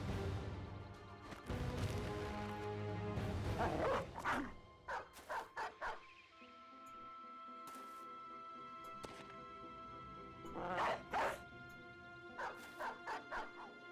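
Dog barking in the medieval combat game Battle Brothers, several quick bursts of yips and barks in short clusters, separated by quieter stretches with a steady background hum.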